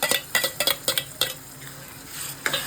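A spoon clatters and scrapes against a pan as tomatoes are stirred into golden-brown onions, sharp metallic knocks in a quick irregular run, then a soft sizzle underneath before a final clink.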